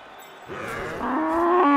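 A cow moos in a video game, a loud, rising, drawn-out bovine call that swells and holds to the end, heard alone without speech.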